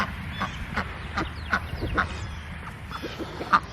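A duck quacks in short, scattered calls on a spring homestead, fairly faint against a quiet outdoor background.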